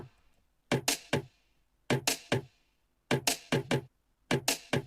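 Sharp, bright snare drum hits with an exciter applied, in short bursts of three or four, crisp and close with a ringing top end, separated by brief silences.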